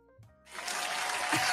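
A congregation breaks into applause, a dense wash of clapping swelling up after a brief spoken moment and holding steady at moderate volume.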